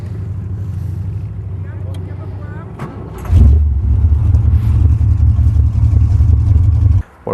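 Hot rod car engine catching and running loudly at close range, a deep rumble that starts abruptly partway through, holds steady, then cuts off; talk can be heard before the engine starts.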